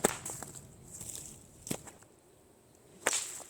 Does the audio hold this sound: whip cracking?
yes